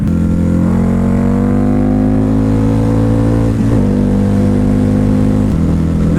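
A Harley-Davidson V-Rod Night Rod Special cruiser is being ridden, and its engine drones loud and close with a steady, smooth tone. The pitch shifts slightly a couple of times as the throttle changes.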